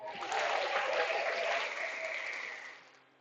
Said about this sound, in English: round of applause for the infield single.